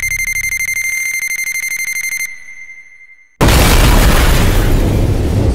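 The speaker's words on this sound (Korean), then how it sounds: "요리 소리에 반응한 가정집의 폭탄." A bomb hidden in a house in a Korean action film sets off with a loud, sudden blast after several seconds of shrill electronic beeping and a brief hush, the explosion roaring on with a dense rumble.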